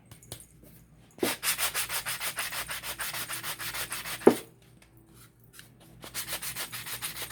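Sandpaper rubs back and forth over a surface to roughen it for paint grip, in steady rhythmic strokes that pause briefly midway before resuming, close and moderately loud.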